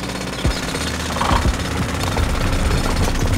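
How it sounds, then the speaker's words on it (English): In an animated scene, a drilling machine breaks rock with rapid, rough mechanical pounding that runs continuously at close range, with no voices. "First, Hulk controls the drilling machine, drills the rock."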